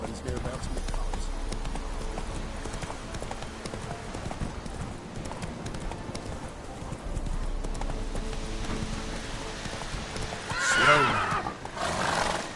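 Geralt's horse Roach in The Witcher 3 trots with steady, close clip-clop hoofbeats, then gives a loud whinnying neigh near the end, with game sounds and a voice speaking underneath.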